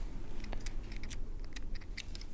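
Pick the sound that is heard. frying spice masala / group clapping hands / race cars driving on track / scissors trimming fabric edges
scissors trimming fabric edges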